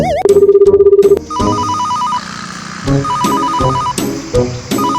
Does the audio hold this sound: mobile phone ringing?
yes